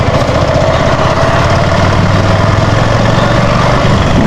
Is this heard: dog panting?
no